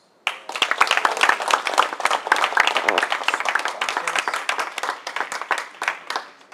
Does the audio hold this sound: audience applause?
yes